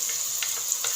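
Spices such as cumin go into aubergine frying in a pan, producing a steady, close sizzle with a few brief crackling bursts and no voices.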